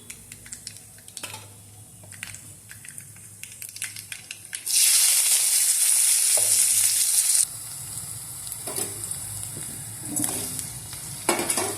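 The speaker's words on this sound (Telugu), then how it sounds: "అవి చిటపట వేగిన తర్వాత ఉల్లిపాయ ముక్కలు, పచ్చిమిరపకాయలు" Onion pieces and green chillies drop into hot oil after the popping seasoning and set off a loud, dense sizzle that holds for several seconds. A steady, quieter frying crackle follows, with occasional stirring clinks and no voices.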